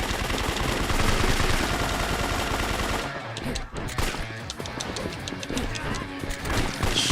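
Gunfire from guns in a video game, rapid continuous bursts of shots and crashing impacts, loud and dense, with a voice reacting over the rattle.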